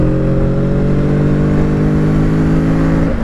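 A Kawasaki Z650 RS motorcycle pulls hard under acceleration, its engine note loud, close and continuous, a steady drone of stacked harmonics holding through a brief, smooth rise in pitch.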